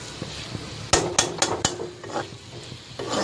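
Ivy gourd (kovakkai) stir-fried in a pan, with a few sharp spatula scrapes and clacks against the metal over a soft, steady sizzle, close up with no talking.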